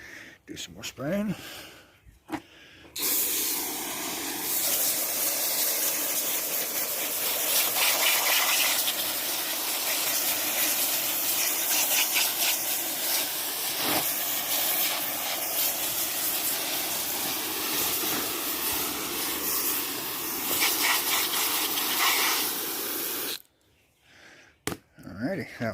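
A steady, loud hiss of cleaner sprayed onto an MT10 chassis runs for about twenty seconds up close, with brief handling noises before and after.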